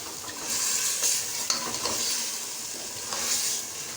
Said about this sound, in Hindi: और साथ ही में अब आलू और गोश्त को मैं अच्छी तरह से भूनूंगी।